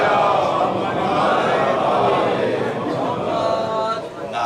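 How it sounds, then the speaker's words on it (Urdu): A large gathering at a majlis recites salawat aloud together, a dense sustained wash of many voices held steady for several seconds before tapering slightly at the end. "ایک مرتبہ بآواز بلند صلوات"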